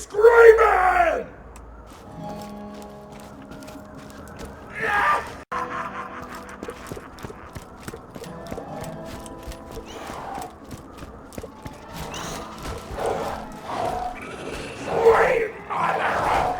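Enemies in Borderlands 2 scream and yell in short, loud bursts amid game combat noise, with a voice talking over them for much of the stretch.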